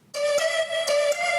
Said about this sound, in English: and then Complex Pro sound like this.